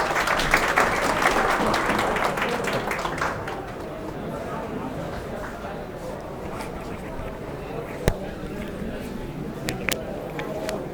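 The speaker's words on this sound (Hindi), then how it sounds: "आइए सर, तालियों से स्वागत कीजिए इनका।" Audience applause greets a speaker taking the stage at a motivational talk, a dense clapping wash that tapers off into faint room murmur with a few isolated claps near the end.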